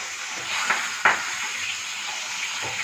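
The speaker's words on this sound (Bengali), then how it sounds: "এখন মাছটা ভাজছি।" Fish frying in a pan gives off a steady sizzling hiss, broken by a couple of sharp clinks or scrapes from the utensil.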